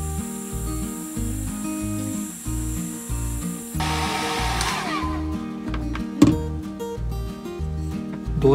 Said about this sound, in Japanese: ドライヤーで乾かしてみましたが